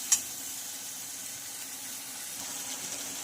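Chopped onion and medium tomato cooking in a pan until soft give a soft, steady sizzle close by, opened by one sharp clink of a utensil, with faint stirring later on.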